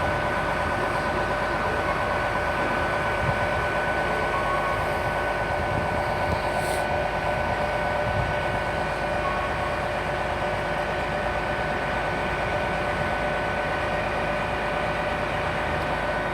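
Train pulling out of platform 3 at Bristol Temple Meads, a steady low rumble and engine drone that stays level and fairly loud throughout, with no talk.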